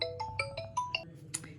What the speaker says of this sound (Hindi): मेरी बहन का फ़ोन आने लगा।